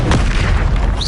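A Confringo spell blast in the video game Hogwarts Legacy, a loud, close, deep boom that rumbles on for about a second after the initial hit.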